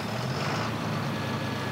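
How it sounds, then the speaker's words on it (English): Tractor engine in the video game Farming Simulator 2013, a steady loud diesel drone with low rumble, continuous and even throughout with no talking. "Alright, let's get in our new tractor here."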